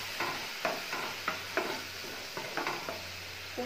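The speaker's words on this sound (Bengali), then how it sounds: "সাথে দিয়ে দিচ্ছি খুব সামান্য পরিমাণে একটু জল দিয়ে পোস্তটা একটু ভালো করে কষিয়ে নেবো" Poppy seed paste with a splash of water frying in a pan for a Bengali eggplant curry, with a soft sizzle under repeated rhythmic spatula scrapes and taps close by, about ten strokes in under four seconds.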